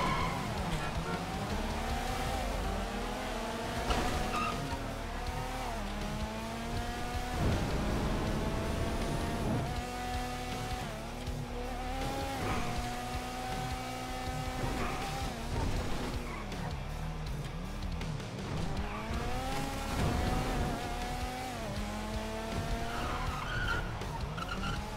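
Cars race in the GTA RP video game with tire screeches and skidding over revving engines, repeated sliding squeals rising and falling across a long stretch of continuous, fairly loud driving.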